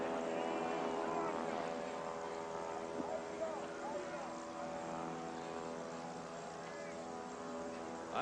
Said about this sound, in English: There's a small plane flying over the stadium with a banner